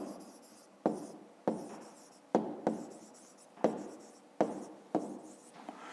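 Pen writing on paper while solving a fifth-grade math exercise, close scratchy strokes in repeated bursts, each starting with a sharp tap and fading, about eight in all, with no talk.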